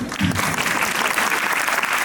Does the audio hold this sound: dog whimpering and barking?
no